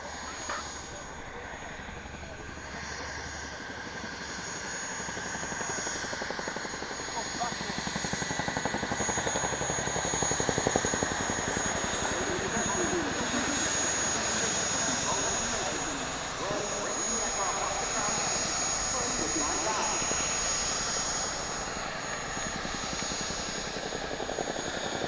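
A helicopter reversing at the Farnborough Airshow gives off a steady, rumbling rotor and engine roar at moderate distance, swelling slightly midway and holding for about twenty-five seconds.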